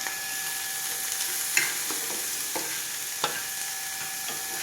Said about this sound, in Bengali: এবারে পেঁয়াজ, ক্যাপসিকাম, কাঁচা লঙ্কা সব একসাথে করে দিয়ে দেওয়া হবে। এটাও একটু গোল্ডেন সামান্য একটু ভাজা হবে